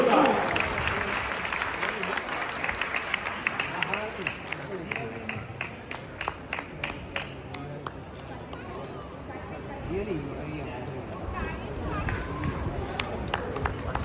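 A crowd at an Arya Samaj annual function at a gurukul claps steadily for children throughout, with a general murmur of voices mixed in, loud and near.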